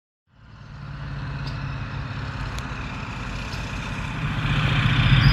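A 1968 Chevrolet Chevelle's engine starts up and rumbles with a deep, steady low idle, growing louder toward the end as it revs up for a ride, with no voices.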